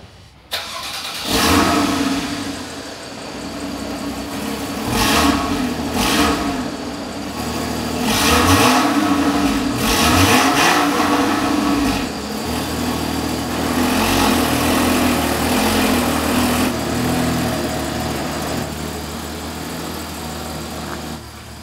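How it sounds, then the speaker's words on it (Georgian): Porsche Cayman with a naturally aspirated six-cylinder engine starting and being revved repeatedly, loud close rising and falling blips that settle into a steady idle. "6 ცილინდრია და ნახოთ აბა როგორი ხმა აქვს"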